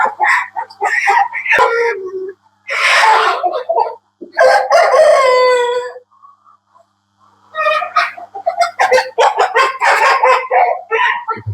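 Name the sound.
broiler chickens, rooster crowing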